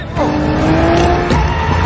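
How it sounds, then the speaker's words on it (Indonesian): Car tires skidding as the car overshoots a turn in a Fast and Furious 9 scene, a loud, sustained screech with engine roar lasting nearly two seconds and close to the listener. "Ramsey kebablasan pas mau belok"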